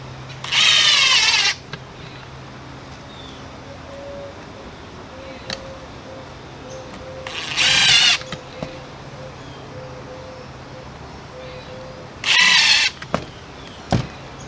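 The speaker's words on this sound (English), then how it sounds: "each hinge gets two screws screwed into the side of the trap" Power drill driving stainless steel screws into the hinges on the side of a stone crab trap, three short whirring bursts spaced apart, close and fairly loud, with a faint intermittent beeping in the background.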